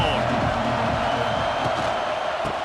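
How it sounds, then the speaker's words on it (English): A stadium crowd in EA Sports College Football 26 roars in a steady, dense wash of cheering that holds loud and even throughout, with no clear voice on top. "This crowd ready to make its presence known."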